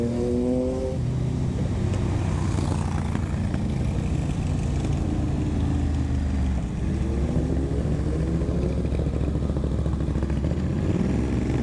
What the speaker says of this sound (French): Une belle butte du Ducati Monster avec un petit échappement Terminioni, très joli